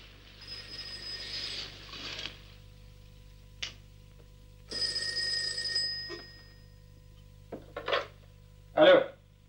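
Telephone ringing indoors in a quiet room, several separate rings spaced a few seconds apart, moderately faint with a low electrical hum underneath.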